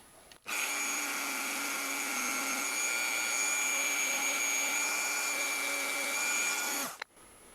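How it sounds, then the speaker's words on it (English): A polisher runs on a part of a 1911 pistol, a loud steady whirring drone that starts abruptly, holds for about six seconds with a slight shift in pitch, then cuts off. "Now we're going to go ahead and polish this guy really quick."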